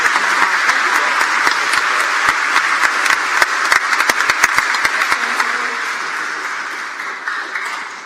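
Loud, steady applause from an audience at an elementary school completion ceremony, honoring the day's speakers, with a few sharp individual claps standing out from the dense wash before it gradually tapers off.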